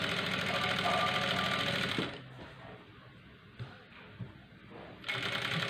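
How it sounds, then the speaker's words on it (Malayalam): A sewing machine stitches the sleeve of a full-boil blouse, running in a dense, steady close-up whir for about two seconds, pausing to a quieter rustle, then starting up again at the end. "ഫുള്ളിതുപോലെ തയ്ച്ചെടുക്കുക"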